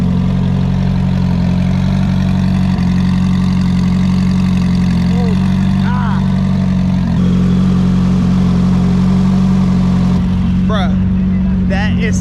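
A 1,000-horsepower car engine idles at a car meet at a speedway, a loud, steady, deep rumble that holds throughout with slight swells, while people talk and crowd noise carries over it.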